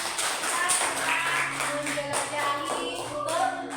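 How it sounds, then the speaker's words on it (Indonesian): A classroom group claps together for everyone after a synonym and antonym lesson, a steady patter of many hands with a teacher's voice and children's talk mixed through it. "Tepuk tangan dulu untuk semua."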